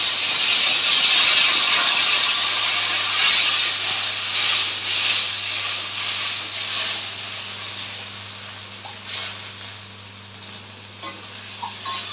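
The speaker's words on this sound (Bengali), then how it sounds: "এবার জলটা দিয়ে দেবো" Water is poured into a hot pan for a bitter gourd and fish curry, bursting into a loud, close steamy hiss and sizzle that slowly fades, broken by a few small clinks.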